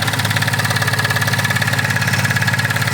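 A car engine idles steadily and loudly up close during a vehicle inspection, a low rhythmic rumble with a constant pulse and no voices.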